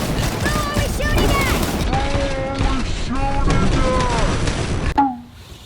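Sustained rapid gunfire in a battle from the Netflix animated Devil May Cry series is loud and close. Voices talk over the shooting, and it cuts off abruptly near the end.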